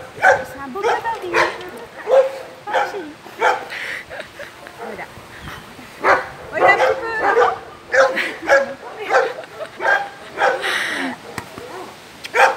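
A Malinois cross dog barking at an animal shelter: repeated sharp barks and yips in uneven bursts, some with a whimpering edge, close and loud, with people talking in between.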